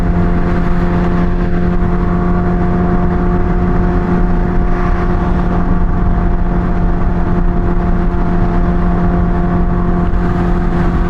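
A Toyota Supra mk5's engine drones steadily while cruising to a car meet, a constant loud hum with a low tonal note heard from inside the car, without break or pause.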